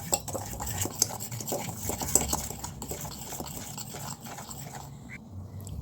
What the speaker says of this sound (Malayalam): ഇനി ഇതിനെ നന്നായിട്ടൊന്ന് മിക്സ് ചെയ്തെടുക്കുക